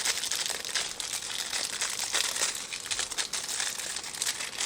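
Plastic packaging around a two-trimmer hair clipper and beard trimmer kit crinkles and crackles steadily and up close, a dense continuous rustle with no talking.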